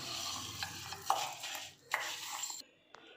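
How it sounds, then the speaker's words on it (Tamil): Coriander seeds are poured into a dry, unlit kadai, giving a brief rattling patter of seeds on metal with a few clinks and scrapes before stopping abruptly. "இப்போ 2 கப் நமக்கு மல்லி போட்டுக்கலாம்"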